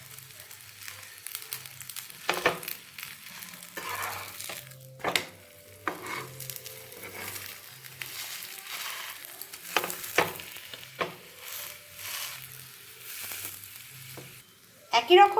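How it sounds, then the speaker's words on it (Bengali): Aloo paratha frying in a pan, with a low, steady sizzle and occasional light scrapes and taps of a spatula, faint and close, ending in a brief louder burst. "আমি এখন আবার পরোটাটাকে ভেজে নেব"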